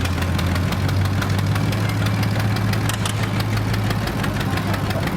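A 1957 Model 520 antique tractor runs steadily in a show parade, its engine giving a loud, continuous low idle-like thrum with a knocking beat throughout, alone with no talk.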